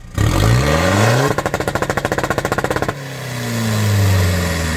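Car engine with a stage-3 rev-cut exhaust module, revving up loudly, then firing a rapid string of sharp popping cuts for over a second before dropping back and climbing again.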